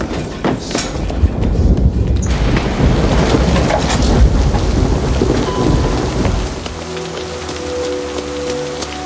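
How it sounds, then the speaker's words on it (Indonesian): Steady, heavy rain pours outside with a loud rumble of thunder, the downpour dense and continuous before easing into a softer patter toward the end. "Padahal di luar sedang hujan."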